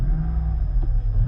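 A 2009 Lexus LS460L engine running with a brief rev, a steady low rumble with a short rise in pitch around the middle, close and fairly loud, with no voices.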